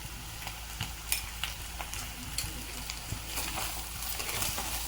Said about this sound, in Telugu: ఇలా వేసుకొని అన్నిటినీ ఒకసారి కలుపుకొని తిరిగి మళ్ళీ 2 నిమిషాల పాటు అన్నిటినీ ఒక్కసారి ఫ్రై అయ్యేటట్టు మగ్గించుకోండి